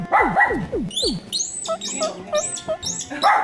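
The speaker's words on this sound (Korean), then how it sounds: "얘는 안 만져주면 막 짖나봐" A small pet dog, freshly groomed with a lion cut, yaps in short excited bursts alongside high chirpy squeaks, close and fairly loud with no talk.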